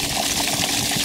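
Dirty backwash water gushes out of a 14-inch Intex 2800 GPH sand filter pump for a pool, a loud, steady, close rush of flowing water with no talk.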